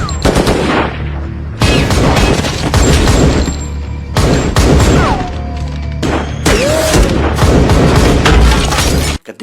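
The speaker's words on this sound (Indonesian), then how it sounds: "Ketika baku tembak tengah berlangsung dan Vanessa yang kian tersurut" Loud bursts of film-shootout gunfire, rapid automatic volleys and heavy booming shots in several dense stretches separated by brief gaps, with shattering and thuds mixed in.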